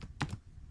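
Keys on a computer keyboard are struck in a quick pair of close taps, clear and brief against a quiet background, as SQL code is typed.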